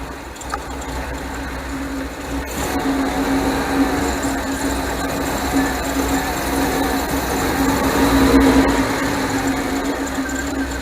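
A 1978 MGB engine with a replaced carburetor and deleted ignition points runs rough, a loud, steady, close droning idle with a persistent hum throughout.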